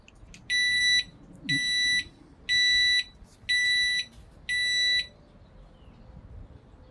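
A motorcycle anti-theft lock alarm gives five loud, piercing electronic beeps in a steady on-off rhythm, each about half a second long, over faint background noise.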